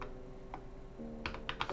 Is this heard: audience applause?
no